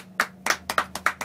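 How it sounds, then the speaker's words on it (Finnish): A few hands clap at a Finnish prize draw: five or six sharp, evenly spaced claps, close and clear over a quiet background hum, with no talk. "Ja aplodit."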